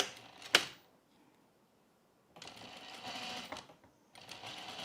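A sewing machine stitches pieces of a non-stretch bralette in two short bursts of fast, even whirring, close by, with a sharp click and a quiet pause between runs.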